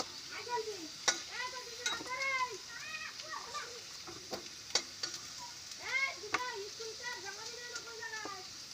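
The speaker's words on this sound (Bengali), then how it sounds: "এইভাবে আলুগুলো ভেজে নেবেন।" Potatoes frying in hot oil while fish is being prepared, a soft continuous sizzle running underneath a voice that talks almost the whole time, with a few sharp clicks of stirring.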